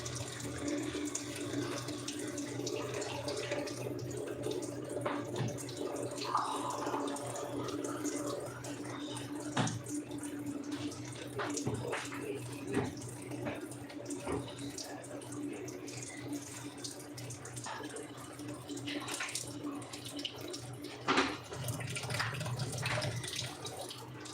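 Water runs steadily for a shower, a continuous spraying hiss with scattered splashes and drips over about 24 seconds, with faint voices in the background.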